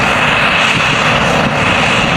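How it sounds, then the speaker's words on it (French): A Case IH Puma 200 CVX tractor with continuously variable transmission ploughing a field, its engine a loud, steady, unbroken drone close by with no talking. "Le Case EH Puma 200C VX avance lentement. Sa transmission continue ajuste le régime du moteur en douceur."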